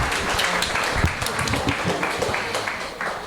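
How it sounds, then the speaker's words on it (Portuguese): A seminar audience applauds a group of children: continuous, dense clapping that stays at a fairly even level throughout. "Salve de palmas para quem fez o número 1."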